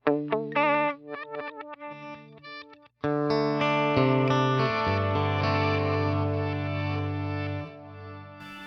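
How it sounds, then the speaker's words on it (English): Electric guitar run through a Neural DSP amp preset with compressor and tape echo, playing a quick plucked phrase, a brief stop, then loud sustained chords ringing out with echo tails and no talking. "we've also got a compressor and then the tape echo down as low"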